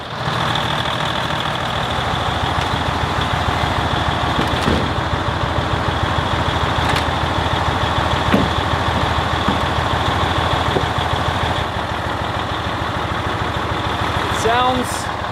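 A heavy diesel truck engine idles steadily and loud with good oil pressure, with a rhythmic diesel knock and occasional clicks, running without pause throughout.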